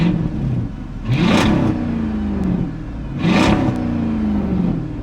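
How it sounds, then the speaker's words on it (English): The engine of a 2006 Dodge Charger is heard from inside the car as it revs twice, each time a loud, close surge that rises sharply and then falls back to a rumbling idle. "I thought I'd show you what it's like to rev this car up while you are sitting in it."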